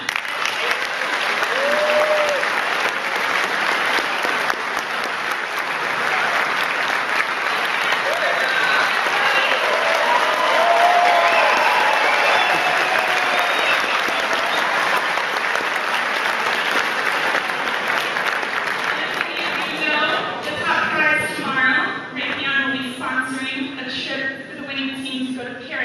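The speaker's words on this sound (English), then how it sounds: "so a big round of applause for them." Audience applause at a student rocketry competition briefing, sustained clapping from a large crowd that holds steady for about twenty seconds before thinning into scattered claps toward the end.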